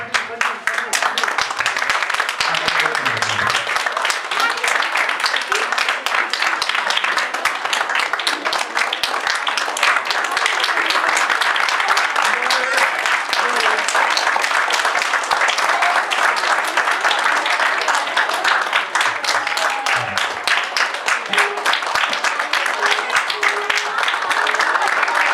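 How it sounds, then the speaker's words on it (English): Audience applause at a drama workshop welcoming guests, a dense, steady clapping that carries on loudly and evenly for the whole stretch. "please give a big round of applause to all of them"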